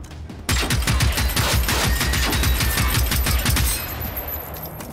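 Rapid automatic gunfire in the Generation Zero video game, a loud sustained burst of closely spaced shots lasting several seconds before tapering off.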